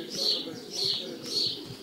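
Pigeons arriving at a racing-pigeon loft call outdoors, with three soft, rising-and-falling coos or chirps at an even rhythm over a steady background hum.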